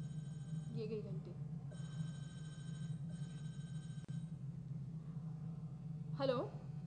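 A telephone rings in repeated electronic bursts over a low steady hum, faint and a little distant, with a short chirp near the end.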